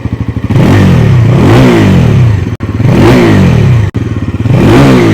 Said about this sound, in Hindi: एक बार रेव करता हूँ।